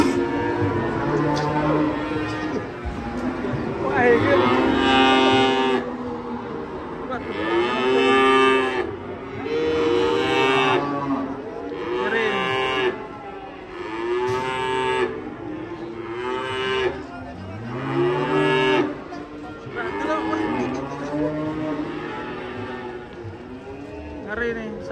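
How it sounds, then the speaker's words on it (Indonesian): A big cow moos repeatedly while raging, giving loud, long bellowing calls nearly back to back, close by, with crowd noise faintly underneath. "Ngeri nih, sapi besar kalau ngamuk kayak gini."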